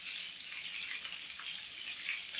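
Polish meat patties sizzle steadily while frying in a pan, a soft, even crackle that holds close by with no talking.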